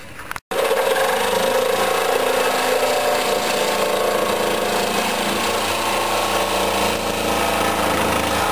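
A power drill drives deck mate screws into a military trailer's wooden board, running as a steady, loud, continuous whir with rough grinding texture for the whole stretch after a brief pause at the start.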